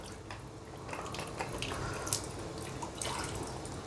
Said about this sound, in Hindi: सीपीयू को ऑन मतलब खोल के इसके अंदर से पानी ड्रेन कर लीजिएगा